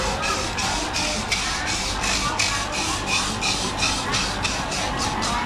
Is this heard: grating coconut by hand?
yes